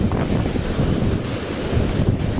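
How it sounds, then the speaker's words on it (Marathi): Strong storm wind in a village buffets the microphone in a steady low rumble, with broadband rushing noise and no voices, as unseasonal rain begins. "एवढं भयानक आहे गावाकडचं वारं"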